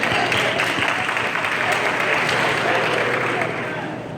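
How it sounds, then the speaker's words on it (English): Students at a sorority-hosted achievement event applaud themselves in a dense, steady round of clapping that tapers slightly toward the end, with murmured voices underneath. "You can applaud yourself."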